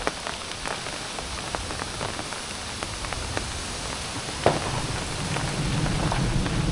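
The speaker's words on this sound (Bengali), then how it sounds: "এই শীতের শেষে প্রথম দিন আজকে বৃষ্টি হচ্ছে" Wind-driven rain on the first rainy day after winter makes a steady, close hiss scattered with sharp drop impacts. It builds slightly toward the end, with no voices.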